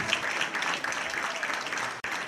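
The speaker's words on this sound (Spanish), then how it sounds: "Luis Enrique, ese aplauso para ti." An audience at a 2018 Christmas gala applauds, a dense, continuous wash of many hands clapping, loud and close, for the full couple of seconds with a brief dip near the end.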